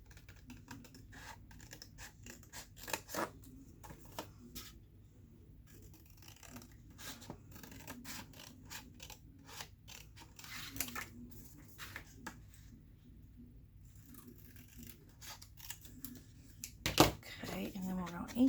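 Scissors snip and crunch through paper for a matchbook pocket craft in a long run of close, irregular clicks and cuts, with rustling and a louder clatter near the end, under occasional quiet talk.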